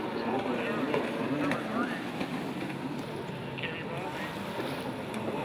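Kawasaki jet skis, including a Superjet and Kawasaki 800s, race at a Hydro Turf event in Parker, roaring steadily and loud amid wind and water noise, with a commentator talking over the engines.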